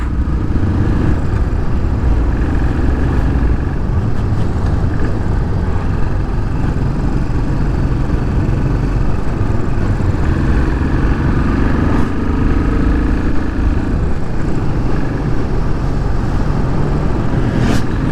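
A Royal Enfield Bullet 500 motorcycle runs continuously while riding, its engine a loud, steady low-pitched thrum with road and wind noise that stays constant throughout.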